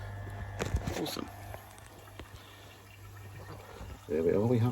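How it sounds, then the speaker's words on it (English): An air stone bubbles in a koi fry tank, giving a busy fizzing and gurgling of water with a few louder splashy bursts and a steady low hum, and a voice joins near the end. "There we are, we have bubbles."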